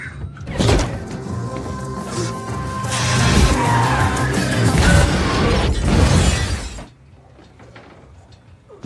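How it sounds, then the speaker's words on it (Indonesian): A car skids, rolls over and crashes in a movie action scene, with loud scraping, tumbling impacts and shattering lasting several seconds before it cuts to near quiet. "Mobil terguling dan Hutch berhasil selamat."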